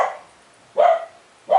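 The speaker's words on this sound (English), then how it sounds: "barks at everything" A dog barks sharply three times in a row, each bark short and fairly close, with quiet pauses between them and no talking over it.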